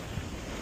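Sea waves wash onto the eroding coast at Lome, a faint steady roar of surf mixed with wind buffeting the microphone over a short stretch.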